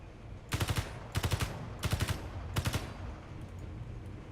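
Video game gunfire in Space Engineers is aimed at a cargo ship. Four short bursts of rapid shots fire at an even pace, loud and close, with quiet gaps between them.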